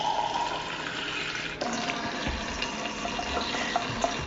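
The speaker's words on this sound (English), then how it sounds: "I come to the refrigerator and fill my glass up" Water runs steadily from a tap or dispenser into a container, a continuous splashing stream that shifts in tone partway through, with no talking.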